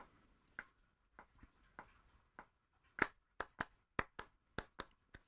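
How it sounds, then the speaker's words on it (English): A single person claps a rhythm of straight eighth notes in a piano lesson, crisp dry claps heard close and alone: a sparse opening pattern, then a quicker run of evenly spaced claps. "Now listen to these claps and echo them."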